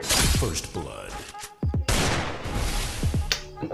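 Gunfire in the Free Fire video game, with several sharp bursts of shots and bangs across the clip, loud and close, mixed with game noise.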